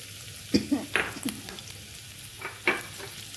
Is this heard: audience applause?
no